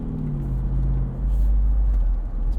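A V8 2021 Jeep Wrangler Rubicon 392 driving, its engine giving a low, steady rumble heard from inside the cabin, moderately loud and unbroken, with no talk.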